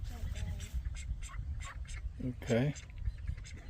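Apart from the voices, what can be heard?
mandarin ducks quacking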